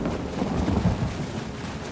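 Steady rain with a low rumbling roll of thunder in the fantasy video game The Elder Scrolls Online, a continuous dense wash of patter under a brief swelling boom, with no voices.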